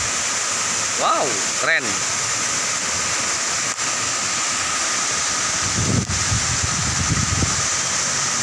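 The waterfall at Lembah Anai gives off a constant, even roar of rushing, falling water close by. Brief voices exclaim over it near the start, and louder talk comes in toward the end.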